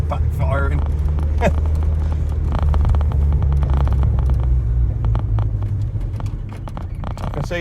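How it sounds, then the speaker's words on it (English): A Renault 11 is driven hard, its engine rumbling loudly with sharp popping backfires scattered through the run, and a voice briefly speaks over it near the start. "Backfiring."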